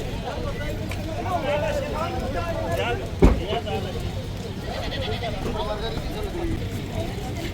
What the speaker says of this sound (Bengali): পিক আপের মধ্যে তোলা হচ্ছে খাসিগুলা